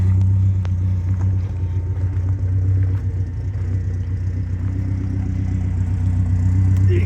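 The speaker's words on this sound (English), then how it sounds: "You can see the 3-inch Stinger exhaust there. A little lopey." A 1988 Ford Thunderbird engine with a 3-inch Stinger exhaust idles close by in a steady, slightly lopey low rumble that continues throughout.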